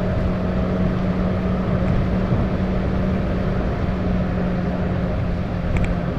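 Toyota Agya G 1.2 automatic TRD 2018 engine straining uphill in gear on a toll road, a loud continuous droning hum with a steady tone, heard from inside the car with no talking.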